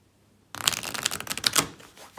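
A deck of Oracle of the Unicorns oracle cards is riffle shuffled up close, a sudden crisp rapid flutter of cards snapping together for about a second and a half before settling.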